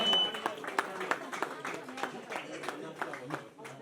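An audience at a Chyu Lhochhar celebration in Lamjung claps continuously, the scattered individual claps forming a steady, moderately loud patter across about four seconds.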